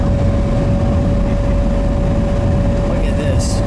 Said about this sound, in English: so you can hear how quiet it is in the car